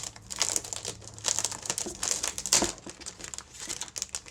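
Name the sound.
peeling plastic wrap off a Logitech G613 keyboard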